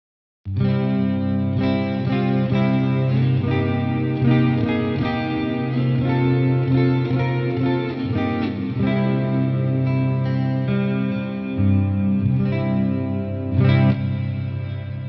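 Clean electric guitar through an Aurora DSP amp simulator plugin, playing chords and picked notes with a smooth, slightly chorused shimmer, steady and sustained, no voices.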